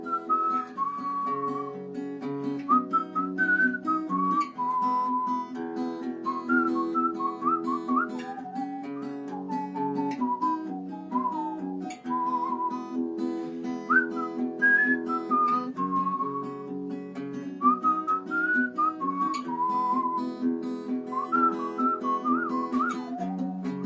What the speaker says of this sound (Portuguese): Agora eu vou tocar o violão e vou assobiar a melodia